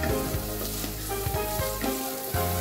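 Garlic, onion and chili sizzle steadily in a hot frying pan, close and loud, with scattered stirring scrapes and clinks over the continuous frying hiss.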